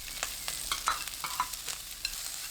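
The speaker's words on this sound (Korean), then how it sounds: "식용유 2큰술, 목이버섯 넣고 센 불로 1분 30초 볶아주세요" Wood ear mushrooms, carrot and onion stir-fried in oil over high heat, a steady soft sizzle broken by a series of scraping stirs, close and moderately loud, with no talking.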